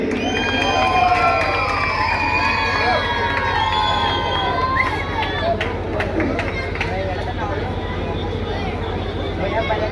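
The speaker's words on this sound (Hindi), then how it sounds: "जोरदार तालियों से स्वागत कीजिए" An audience at a Ganesh festival poetry gathering cheers loudly, with shrill whistles and excited shouts rising over a dense crowd roar that gradually settles into a lively hubbub.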